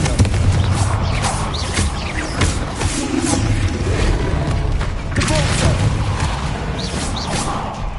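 Blasting spells cast in a Harry Potter video game, with repeated booming thuds and whooshing bursts that rise and fade over a continuous dense game soundscape, loud and close throughout, with speech mixed in.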